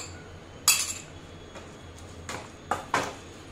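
A spoon stirring spiced curd into a potato and capsicum curry in a pan, with four or five sharp metallic clinks against the pan spaced irregularly over a quiet background.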